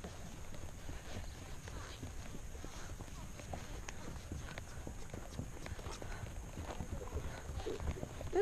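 Steady clip-clop of hooves walking at an even pace across the whole stretch, moderately close, over a faint background hum, during horseback riding in Costa Rica.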